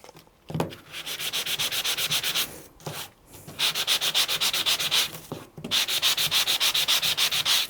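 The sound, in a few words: sanding cardstock die-cut element with sandpaper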